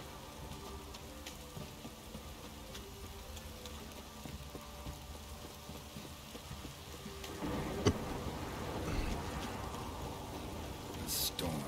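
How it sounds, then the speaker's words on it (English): Steady rain and low rumbling thunder of a thunderstorm in The Witcher 3 on Fyke Isle, a continuous wash that swells louder in the last few seconds with a sharp crackle near the end. "The storm, damn it."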